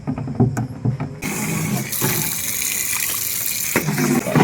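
Water runs from a tap into a barrel, a steady loud gush that starts after about a second of clattering and continues to the end.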